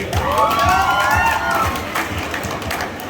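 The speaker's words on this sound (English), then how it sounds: "Please give a continuous round of applause for them." Cheering and whooping from a crowd at a school farewell party, with excited voices rising in a swooping shout and rhythmic low thumps like clapping or stamping, fading toward the end.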